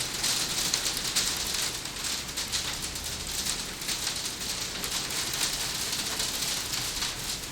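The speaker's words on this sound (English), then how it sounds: "Yeah, that's just rain pelting the windows. That's not hail or anything like that." Steady rain pelts against windows, a dense, continuous patter that stays even throughout with no voices over it.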